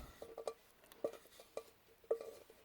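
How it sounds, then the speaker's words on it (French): Faint metallic scrapes of a utensil against a saucepan bottom while making chocolate spread, four or five short strokes in an even rhythm, quiet and close with no voices. "N'hésitez pas à racler le fond de votre casserole pour récupérer un maximum"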